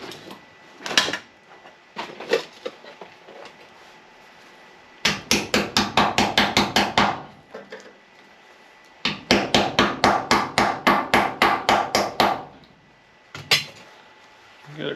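Hammer blows on the roof skin of a 1955 Chevy Nomad during metal repair: two fast, evenly spaced bursts of sharp metallic strikes, each about a dozen hits, with a few scattered taps in between and no talking.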